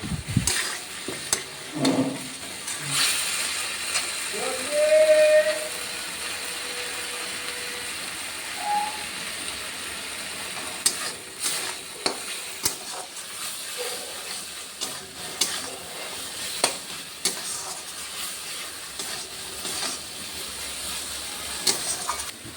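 Pointed gourd (potol) fries in oil in a pan, a soft continuous sizzle with occasional stirring scrapes and clatters, fairly quiet, no voices.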